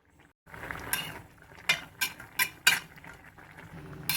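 A ladle stirs pumpkin erissery, a Kerala curry, in a pot, giving about five quiet, separate scraping clacks against the metal, close and unhurried with no talk.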